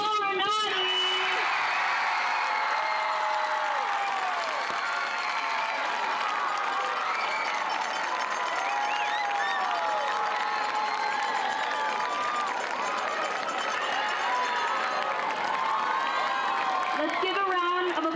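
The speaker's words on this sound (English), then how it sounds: "Let's give a round of applause to Paul and all of the other nominees." Crowd applause and cheering in the stands at a high school homecoming football game, right after homecoming royalty is announced: a sustained wash of clapping with whoops and shouts, while an announcer's amplified voice talks over it.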